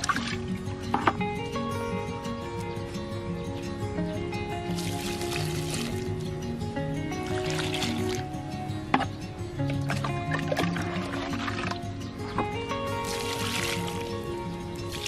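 Water pours and trickles steadily onto soil in a polybag while watering a turmeric plant, with soft splashes and gurgles coming in bursts, close by and fairly quiet.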